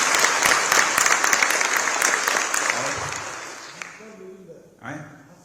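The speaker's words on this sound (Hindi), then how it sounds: "एक बार पवन कुमार जी खन्ना का तालियां बजाकर हम लोग स्वागत करते हैं" Audience applause welcoming a guest at a Defence Institute student address, loud broadband clapping that gradually fades over several seconds, with a few faint voices near the end.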